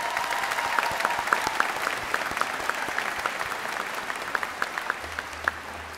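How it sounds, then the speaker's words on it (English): Steady applause from a large audience at a 2018 ECPI University commencement ceremony in Virginia Beach, with many hands clapping at moderate distance and some sharper claps standing out. "Let's give them a grateful round of applause."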